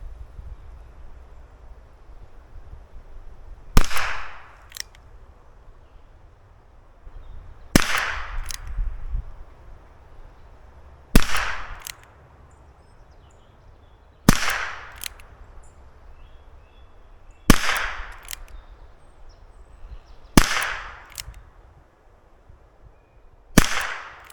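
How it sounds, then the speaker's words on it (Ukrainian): Eight sharp shots from a Weihrauch HW4 revolver with a 2.5-inch barrel, fired at a target in spaced pairs and singles with a few seconds between them, each crack loud and near with a short decaying tail over light wind. "перший барабан відстрілюю по верхній мішені"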